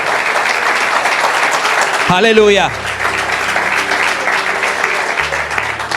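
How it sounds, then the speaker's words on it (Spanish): Church congregation applauding during a morning service, a continuous wash of clapping with a voice briefly calling out over it. "Dale un fuerte aplauso al Señor en esta mañana."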